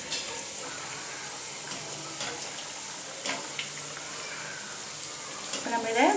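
Masala vadai fry in hot oil at medium heat, a continuous bright hiss with faint bubbling and a few soft bumps, ending with a brief louder rustle.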